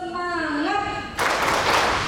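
A group at an early-childhood education session does a tepuk semangat clapping chant, with a sung voice first and then a sudden burst of loud, dense clapping from many people close by.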